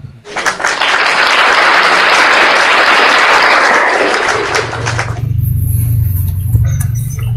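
An audience bursts into loud, dense applause that swells quickly and holds steady for about four seconds before dropping away, leaving a low background hum.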